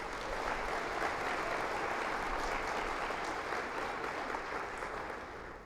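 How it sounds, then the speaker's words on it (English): Steady, dense audience applause fills a hall at an NDIS information session in Sydney, loud and continuous from start to finish with no voices over it. "Let's also give them a round of applause from Sydney."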